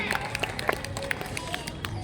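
Audience at an academy school programme clapping to welcome a performer, with loose, uneven claps and a murmuring crowd, and a voice speaking over them.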